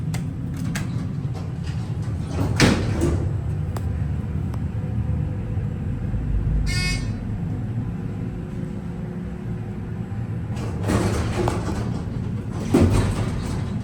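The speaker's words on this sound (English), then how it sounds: "These doors are loud and rough." Heavy mechanical rumble throughout, with a couple of rough, scraping Dover Impulse traction elevator door movements and a brief clanking rattle midway, loud and close.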